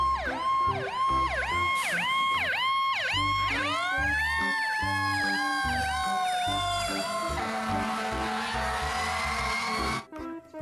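A toy fire truck siren wails loudly and continuously in a rapid two-tone warble, then sweeps into a long rising and falling whoop before cutting off near the end.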